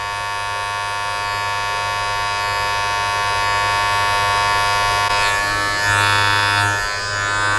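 Cheap Chinese electric hair clippers buzz steadily and close up while trimming hair in a home self-fade, a constant high humming drone that shifts slightly in pitch near the end as the blade works through hair.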